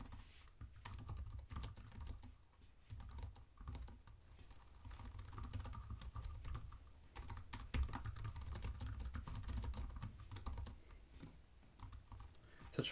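Typing on a computer keyboard, with continuous close clicking and uneven bursts of keystrokes over several seconds.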